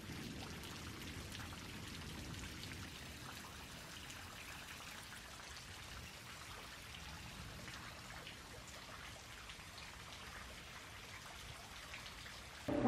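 Steady rain falling all day over a backyard with fence, gravel and a French drain, a constant soft hiss of drops with low pattering, even and moderately distant throughout, no voices.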